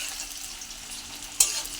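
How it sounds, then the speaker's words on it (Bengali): Onion and green chilli fry in a wok with a steady close sizzle, then a sharper burst of hissing spatter near the end, no voices. "পেঁয়াজ আর কাঁচা লঙ্কা দিয়ে দিয়েছি কড়ায়"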